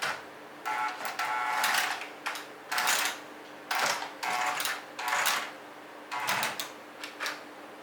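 Small Wltoys 18405 electric RC car crawling across a computer keyboard, producing bursts of clattering key clicks and plastic rattling interleaved with a whining motor, coming in short separated runs with pauses between.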